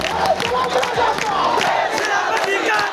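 Students chant new slogans in a midnight protest around Dhaka University, a dense crowd of many voices shouting together at steady volume, with no pauses across the stretch.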